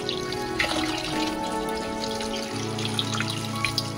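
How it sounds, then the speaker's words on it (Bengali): Running tap water splashes over a bata fish as it is rinsed in the kitchen, a close, uneven stream of water with small drips and shifting splashes. "আমি বাটা মাছটা ভালো করে ধুয়ে নিচ্ছি।"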